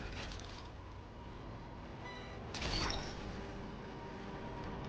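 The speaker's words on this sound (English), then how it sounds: "Oh, the train goes to that shelter." Train moving in the video game Death Stranding 2, a quiet steady rumble with creaking metallic squeaks and a brief louder clank midway, no talk.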